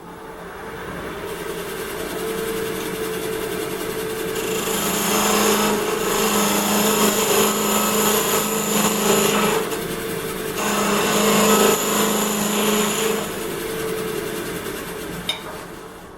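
Wood lathe spinning as a sharp chisel turns a bamboo bracelet, a steady motor whine with two louder stretches of scraping cutting noise, close and continuous, no voices.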